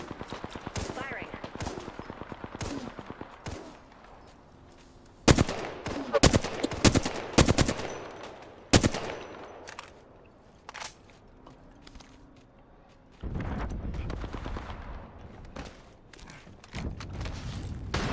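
Gunfire in the video game Apex Legends comes in rapid automatic bursts and single shots, loud and close, separated by quieter footsteps and movement, with voices talking at times.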